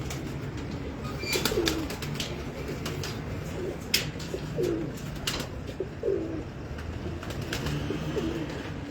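Large Pakistani pigeons coo in a loft, repeated soft throaty rolling coos from several birds at moderate distance, with occasional sharp clicks and wing or cage knocks scattered through.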